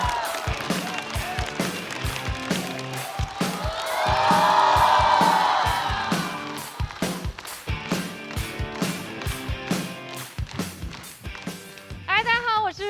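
A stand-up comedy audience applauds and cheers to welcome a comedian onstage, with dense clapping and a swelling roar of cheers and whoops, then a voice begins speaking over fading applause near the end.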